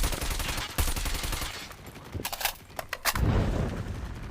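Video-game gunfire crackles in dense bursts, first a sustained rapid stream, then a few separate sharp shots, and then a louder rumbling barrage, all loud and close.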